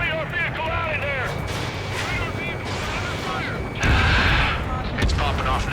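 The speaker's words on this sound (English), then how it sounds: "Fire the AA!" Anti-aircraft guns fire in the Ace Combat 7 flight game, a dense rumbling barrage of booms under chirping radio effects and voices, swelling louder in bursts toward the end.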